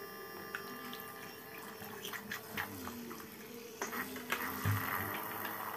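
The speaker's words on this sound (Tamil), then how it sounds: "அப்போ மோட்டர் வந்து இப்போ ஆன் ஆகிடுச்சு" The small water pump motor of an Arduino automatic watering system runs with a faint, steady electric hum, joined by light watery trickling and a few soft knocks.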